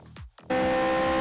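Fordzilla car engine in Asphalt 8, starting with two quick falling revving sweeps and gaps, then settling into a loud sustained tonal engine drone at steady revs.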